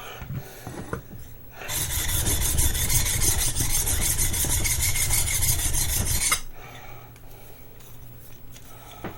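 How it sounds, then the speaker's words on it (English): Steel chisel back held flat and rubbed on a Baryonyx American Mutt sharpening stone to remove the burr, a loud continuous gritty scraping lasting several seconds between quieter handling sounds. "I'm holding it flat, and I'm removing the burr from off the back of the chisel"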